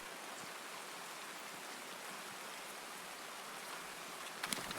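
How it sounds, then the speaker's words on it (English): Steady rain in Escape from Tarkov hisses in an even, continuous wash, fairly soft, with a few faint rustles near the end. "We're silenced with the rain, so we should be A-okay here."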